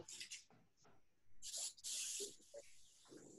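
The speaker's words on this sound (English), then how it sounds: "spray this or grease it" Cooking spray greasing a baking pan for cinnamon rolls: several short hissing bursts of uneven length, close and clear, separated by brief pauses.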